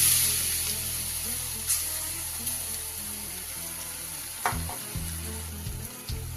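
Ground lentil paste for dhoka frying in oil tempered with nigella and fennel, a steady close sizzle broken by a few stirring scrapes and clinks.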